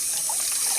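Water runs steadily from a tap during washing up, a continuous hissing splash, close and fairly loud, with no voices over it.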